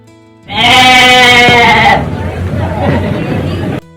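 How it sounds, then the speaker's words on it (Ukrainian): A sheep gives one loud, close bleat lasting over a second, followed by a rougher, quieter tail of noise. "Це вівця."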